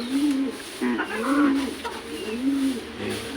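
A pigeon in a loft, one with a growth on its eye, coos close by in several rolling, repeated phrases with short pauses between them.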